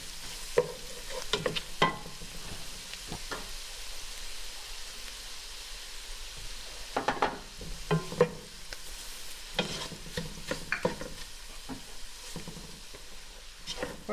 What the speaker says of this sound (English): We're going to mix this well until all the flour is gone and mixed in